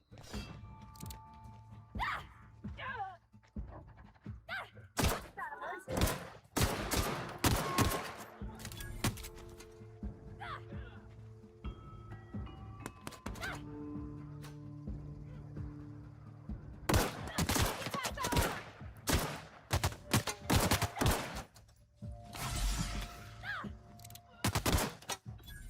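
Gunfire from an enemy's big gun in The Outer Worlds, with repeated loud bursts of shots and fusillades in clusters, heavy thuds and impacts between them, and combat noise and game tones throughout.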